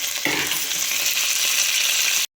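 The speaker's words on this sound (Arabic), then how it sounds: "خلي داك الثوم يتقلى" Garlic fries in butter in a pan, giving a close, steady crackling sizzle that holds throughout with a slight stirring scrape near the start.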